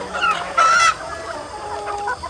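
Free-range laying hens cluck close by, a few short squawking calls rising in the middle, with a faint rooster-like note, and no talking.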